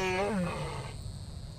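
A boar struck by an arrow from a bow in the video game The Infected lets out one short, loud squealing cry that drops in pitch and fades, leaving quiet game ambience.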